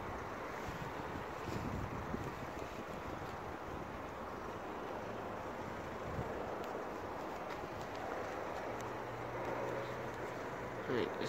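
Wind gusts buffet the microphone near a level crossing by dam dykes, a steady broadband roar with rumbling bursts that carries all the way through.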